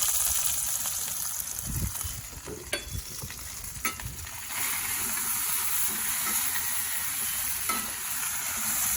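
A burger sizzling in plenty of grease and butter on a Big Green Egg grill, with a loud, continuous close-up crackle and some brief clatter early on.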